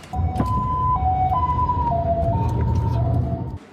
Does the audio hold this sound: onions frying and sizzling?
no